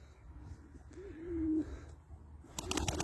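A single pigeon coos in a soft rising and falling call from one of the newly bought smoky crested birds, close and quiet, followed by a burst of rustling or wing flutter.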